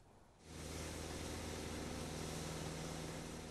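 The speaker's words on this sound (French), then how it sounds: "Vrombissement de moteurs de gros engins en mouvement, pose de l'asphalte" Heavy construction machines lay asphalt during road paving for a new road near a village in Cocody. Their engines give a steady, broadband roar that starts after a short quiet moment and holds evenly to the end.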